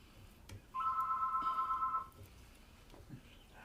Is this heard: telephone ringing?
yes